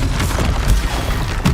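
A Confringo explosive spell goes off in Hogwarts Legacy, a short, loud, close booming blast with a dense low rumble that fills the whole moment.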